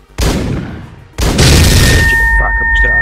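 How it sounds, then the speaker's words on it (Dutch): A loud explosion bursts in the top-down action game Hotline Miami, a sharp blast followed by a second heavier boom that rumbles on with ringing game tones. "Dat was dan de explosie"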